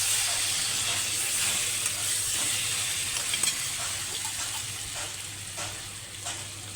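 Tempering spices frying in hot oil for a Rajasthani besan patod curry, a steady close sizzle and hiss with light crackles throughout, no talking.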